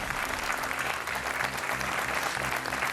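Studio audience applauding a game show contestant, brisk continuous clapping with a rhythmic musical beat pulsing underneath.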